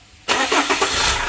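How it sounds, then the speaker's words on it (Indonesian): Chevrolet Captiva FL C140 diesel engine starting up: a short starter crank that catches into a loud, rough idle within a second, close and with no talk. "Nah, sekarang coba kita starter lagi"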